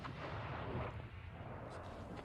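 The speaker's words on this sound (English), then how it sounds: "That was one of the rockets heading out down towards into the plains around the city of Mosul" A rocket launches in the fighting around Mosul, Iraq, a deep, rumbling roar that fades slowly after its first swell, heard from a distance.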